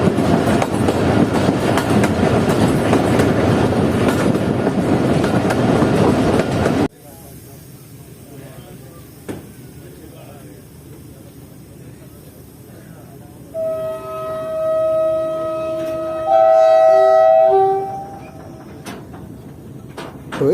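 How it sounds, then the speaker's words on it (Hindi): Jaffer Express passenger train pulled by three engines, a loud rumbling roll on the rails for the first seven seconds, then quieter ambience with a long horn-like tonal blast near the end. "जाफर एक्सप्रेस रिवर्स में एंटर हो रही है मच रेलवे स्टेशन पर"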